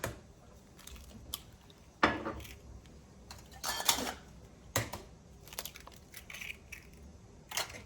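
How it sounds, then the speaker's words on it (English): Shepherd's pie filling is mashed in a pot with irregular wet crushing thuds and clinks of a masher on metal, close and moderately loud, with pauses between strokes. "we're just gonna mash these right in, just like we did the potatoes, until they're smooth and mixed and incorporated properly"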